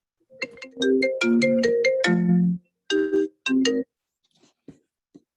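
A phone ringtone plays a bright, chiming melody of rising and falling tones, pauses briefly, repeats two short bursts, then fades into faint quiet taps.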